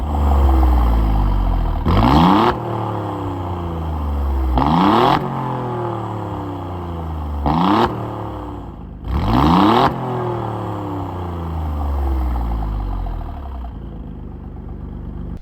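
An Alfa Romeo Giulia QV with its 690T twin-turbo V6 revs hard, with four or five loud rising sweeps through the gears separated by short gaps and a steady engine drone in between.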